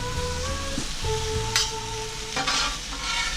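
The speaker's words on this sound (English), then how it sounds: "I'm going to stir these up a little bit so I don't burn them on one side" Cube steak frying in a crowded pan, a steady close sizzle with a few scraping turns of a utensil against the pan as the meat is stirred.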